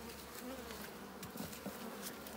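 Honey bees buzz steadily around an established hive, a dense, continuous hum from many insects with occasional louder passes close by, quiet and with no talking.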